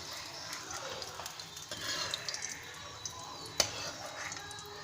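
Groundnuts frying in a pan for lemon rice give a soft, steady sizzle with light stirring scrapes and an occasional sharp click of a utensil on the pan.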